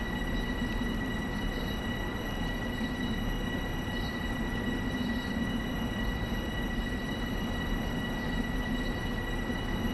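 A train on the LIRR Rockaway Beach branch in Train Sim World rolls slowly over a switch, giving a steady low rumble with faint high tonal whine throughout and no talking.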